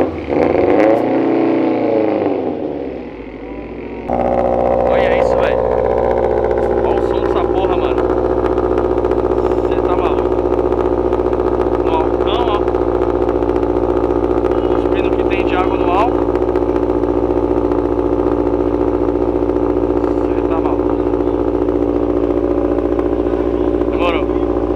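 A turbocharged Volkswagen Voyage engine idles roughly, then holds a loud, steady revving drone with sharp pops and crackles from the exhaust, close by, with voices talking over it.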